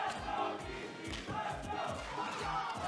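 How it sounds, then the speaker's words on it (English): A large crowd at a Super Smash Bros. for Wii U tournament roars and cheers continuously, a dense, loud wall of voices with rising shouts throughout. "Look at that crowd going insane for their fellow Central Floridian right here."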